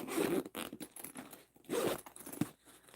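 A Tula Pink zipper on a pebble leather bag is pulled open and shut, close-up ripping zip strokes in several quick bursts with brief pauses between them.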